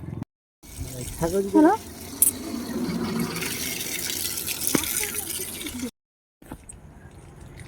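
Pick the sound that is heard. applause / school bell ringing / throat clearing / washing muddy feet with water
washing muddy feet with water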